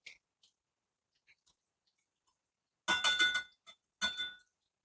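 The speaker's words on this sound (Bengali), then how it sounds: "এবার আমি একটা প্লেটের মধ্যে তুলে নেব।" Fried lote fish pakoras are lifted onto a plate, giving a few close clinks and soft scraping clatters, two brief clusters of utensil-on-dish contact after near silence with faint small ticks.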